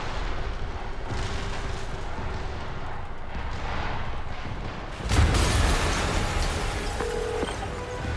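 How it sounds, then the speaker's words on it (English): Explosion in Marvel's Spider-Man video game, a sudden deep boom that bursts out after a stretch of low rumbling background and leaves a loud, sustained roar. "Yuri, an explosion just..."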